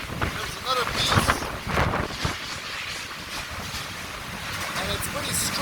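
Super Typhoon Noru's strong wind buffets the microphone in Danang, Vietnam, roaring continuously in loud gusts, with a voice faintly audible underneath.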